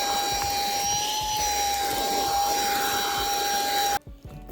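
A Wyze handheld vacuum runs steadily on its regular, non-turbo speed, giving a constant high-pitched whine with a close motor hum that cuts off sharply near the end.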